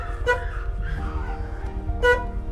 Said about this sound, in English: all you hear in South Africa is just horns